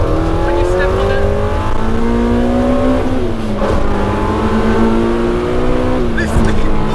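A Honda CRX with a swapped K24 engine revs hard and climbs through the gears, its rising whine dropping at each shift, loud and close throughout.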